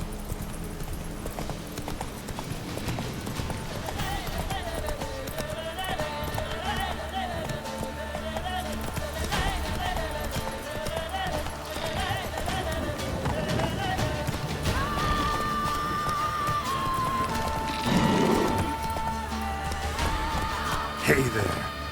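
Roach, the horse in The Witcher 3, gallops with a steady, rhythmic clip-clop of hoofbeats running under background music, while someone speaks over the hoofbeats at times and a whinny briefly rises near the end.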